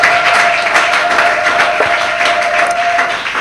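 A church congregation applauds loudly and steadily at a worship service, a dense close wash of clapping hands that holds without a break, with a sustained tone ringing faintly underneath.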